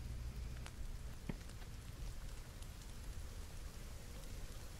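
Rain falling in a forest, a steady dense patter of drops heard throughout, with a few sharper nearby drips over the constant wash.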